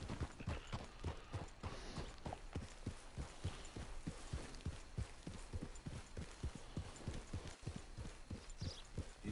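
A horse trots in the video game Red Dead Online, its hooves making a steady, close clip-clop rhythm of even beats throughout, fairly faint overall and with no talk over it.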